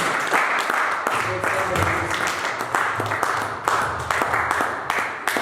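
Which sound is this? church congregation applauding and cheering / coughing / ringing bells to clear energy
church congregation applauding and cheering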